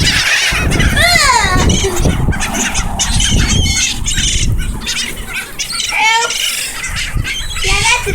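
Seagulls squawking loudly and repeatedly at close range, overlapping harsh cries and squeals mixed with wind and a person's excited talk throughout.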